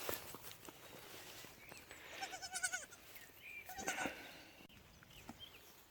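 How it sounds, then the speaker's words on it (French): Goat kids bleating on a farm where young goats are kept, several short calls clustered mid-way with a couple more later, moderately near over faint background rustle and footsteps. "il y a eu la naissance de Fleur, la petite chevrette là, et Vache, le petit bouc."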